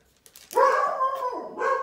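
A dog lets out a couple of short, close barks with a whiny, yelping edge, brief and fairly loud.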